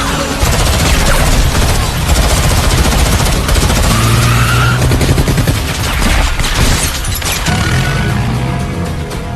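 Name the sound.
gunfight shootout in an action film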